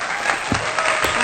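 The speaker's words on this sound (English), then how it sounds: "Give this a round of applause." Brief burst of dense clapping, a short stretch of applause at steady loudness with no gaps.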